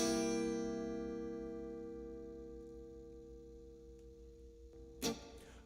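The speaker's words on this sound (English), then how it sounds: "The next chord is the C seventh." A C seventh chord is strummed once on a guitar during a beginners' blues lesson. The chord rings out and slowly decays over several seconds, and a brief sharp knock or handling noise follows near the end. Nobody speaks.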